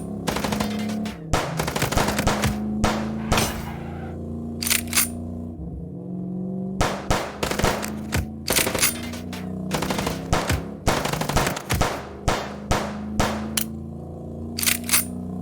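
Gunfire during a car chase in the video game Chicken Police: repeated bursts of sharp rapid shots in clusters, loud and close, separated by short gaps with an engine drone underneath.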